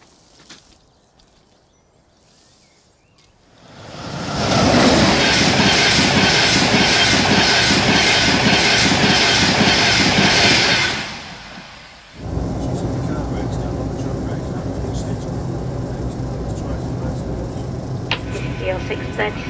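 A Northern train service bound for Manchester Victoria via Halifax runs loud along the tracks, a broad steady roar lasting several seconds before dropping to a lower rumble, with some voices in the background.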